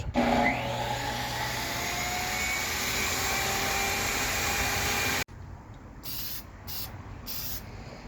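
Wet sanding a primed gas pipe handrail produces steady, close abrasive rubbing and hissing that breaks off abruptly. A quieter, intermittent scraping follows.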